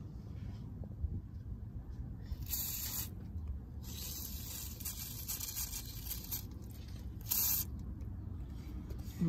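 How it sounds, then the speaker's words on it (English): WD-40 sprayed from an aerosol can onto a car's oil drain plug during an oil change on a second-generation DSM, several short hissing bursts over low background rumble, fairly close, no speech. "So I'm just gonna spray some WD-40 on it."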